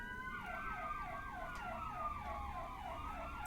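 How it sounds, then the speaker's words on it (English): A wailing emergency siren sweeps up and down repeatedly in the distance, faint but steady, with low traffic rumble underneath and no one speaking. "Cue siren."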